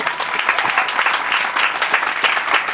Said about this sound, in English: If you believe in that, you will clap more than what you've done.